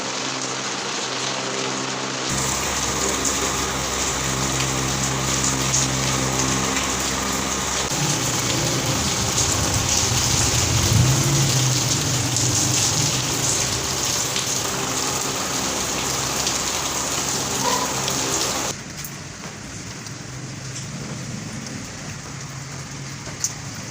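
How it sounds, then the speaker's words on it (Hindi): Heavy, steady rain pours down in a dense, continuous hiss, loud and close, with a low rumble beneath that drops away near the end. "अभी इस टाइम पर बारिश काफ़ी तेज़ हो रही है।"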